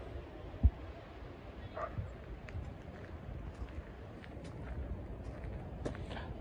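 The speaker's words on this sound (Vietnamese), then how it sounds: "Đang có một đàn chó, người ta đang dẫn đi." Dogs being walked in a busy park where people exercise give a few scattered, faint barks and yips at a distance over soft outdoor ambience.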